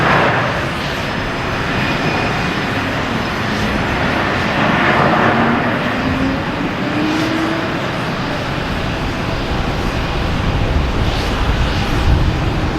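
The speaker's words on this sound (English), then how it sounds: "We got a JetBlue here coming from Philadelphia." A JetBlue airliner arriving from Philadelphia into Boston Logan, its engine roar a steady, moderately loud wash with a faint rising whine, heard outdoors from a distance with no talk.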